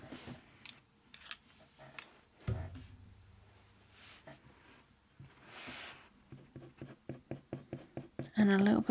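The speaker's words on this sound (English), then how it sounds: "So I'm just using that nougat pencil to add that texture." A nougat-colored pencil shades texture onto paper for a leopard eye drawing, making soft, close scratchy strokes that grow into a quick run of rhythmic scribbles toward the end, with faint talk heard early on.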